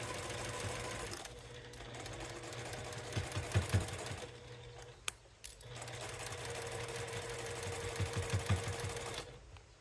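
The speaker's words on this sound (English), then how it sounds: "I'm actually going to sew with my background squares on the bottom" A sewing machine stitches quilt squares for a 3D flower mini quilt, running in two steady whirring bursts with a brief pause between, close and moderately quiet.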